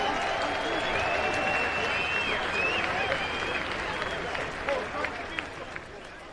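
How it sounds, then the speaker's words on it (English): A crowd at an outdoor political speech rally in London applauds, steady dense clapping mixed with cheers and whistles throughout, gradually easing off toward the end. "Give yourselves a round of applause."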